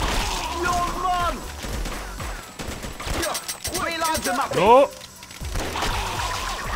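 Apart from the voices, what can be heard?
gunfire in a video game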